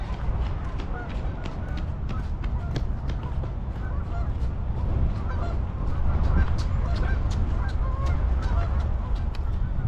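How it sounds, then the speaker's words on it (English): Many geese honk repeatedly on water in winter in Calgary over a dense, rumbling background, their calls overlapping in a busy, continuous chorus. "The geese are having a good time down there"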